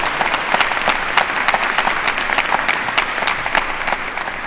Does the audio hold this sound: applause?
yes